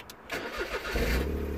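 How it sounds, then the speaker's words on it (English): A Smart Fortwo engine cranks and catches, settling into a steady low idle rumble that continues to the end. "Start the car."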